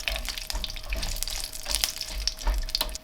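Chilies frying in a pan for a korma curry, a steady close crackling sizzle with soft bursts and low rumbling throughout, no talking.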